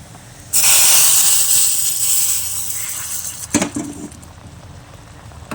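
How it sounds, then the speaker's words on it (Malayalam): A loud sudden hiss of mustard seeds hitting hot oil, sizzling steadily and fading slightly, with a few sharp pops near the end. "എന്നിട്ട് കടുക് വറുത്തിടുക"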